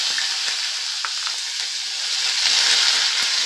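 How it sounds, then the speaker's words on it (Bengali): Kasuri methi and onions frying in a pan for a Bengali fish curry, a loud, continuous close sizzle with light scraping stirs breaking through now and then. "কসুরি মেথিটা একটু নাড়াচাড়া করে ভাজা করে নেব আমি।"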